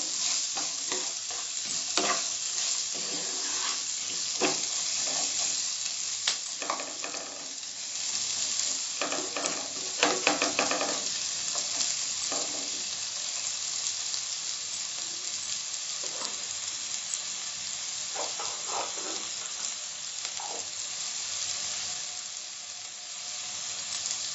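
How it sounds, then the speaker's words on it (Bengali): Chopped onions sauté in a pan for Karnataka-style vegetable sambar, with a continuous close sizzle broken by occasional stirring scrapes, and no talking. "এটা একটু সটে করব, কালার চেঞ্জ না হওয়া পর্যন্ত।"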